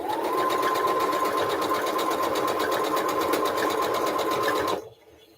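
A sewing machine runs steadily, stitching pieces of a Hunters Star quilt block in a loud continuous whir with a rapid needle rhythm, then stops abruptly near the end; no one talks.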